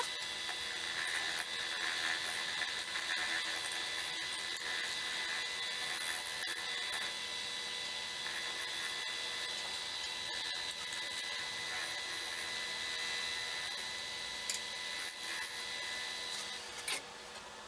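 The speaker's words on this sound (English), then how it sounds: "Hopefully it stays on the lathe." Scraper working a wooden box on a spinning wood lathe, a faint steady whirring hiss with light scraping and an occasional sharp tick, no voices.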